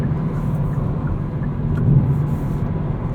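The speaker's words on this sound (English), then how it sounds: "besides the tire noise, there's very little wind intrusion, cabin sound on the highway." Steady low tire roar inside the cabin of a 2019 Hyundai Elantra GT N Line with a 6-speed manual, cruising on the highway, a constant broadband rumble with little wind noise and no talk.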